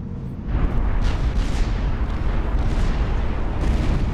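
Heavy weapon fire in the strategy game Supreme Commander 2: a series of deep, rumbling booms and blasts layered over continuous battle noise, loud and dense throughout.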